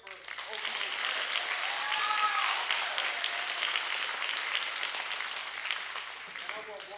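A school gym crowd at a D.A.R.E. graduation claps for a student, applause swelling quickly and holding steady with cheers and voices mixed in, then tapering near the end.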